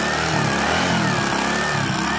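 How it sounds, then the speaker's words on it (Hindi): A Hero Bajaj Platina 100 ES motorcycle engine runs just after starting, a steady close putter with no talk. "बाइक हमारा फाइनली स्टार्ट हो गया"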